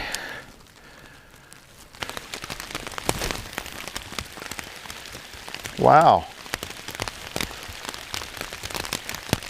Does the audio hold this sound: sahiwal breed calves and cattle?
no